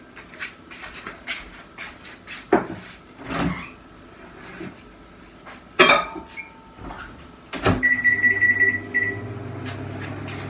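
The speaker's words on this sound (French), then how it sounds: "Et je le remets dans le micro-ondes pendant 3 minutes." Kitchen clatter of dishes and cupboards, then a microwave oven heating homemade light popcorn starts up with a short beep and settles into a steady low hum for the last few seconds.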